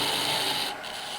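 A parting tool bites into a small wooden fishing bobber spinning on a lathe, giving a steady, close scraping rasp that eases off partway through the short cut.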